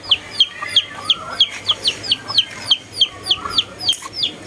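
Chickens cluck in a steady run of short, sharp calls, roughly three per second, fairly close, with soft background noise.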